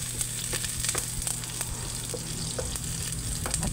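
Chopped garlic and onion sizzle steadily in a hot pan, a dense, even crackle with scattered sharp pops and light stirring scrapes throughout, close and alone with no talking.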